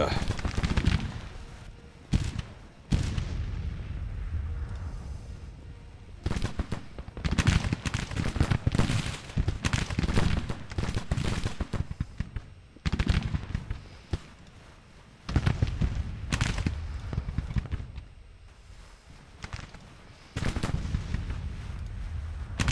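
Gunfire in a Civil War battle video game, sustained bursts of volleys and booms rising and falling, with someone talking over parts of it.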